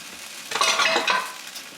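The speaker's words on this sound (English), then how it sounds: "Now I'm going to add my shrimp and eggs." Shrimp and eggs stir-fry in a hot pan of fried rice, a bright close sizzle swelling as the spatula stirs and scrapes through for about a second before easing back, with no talk.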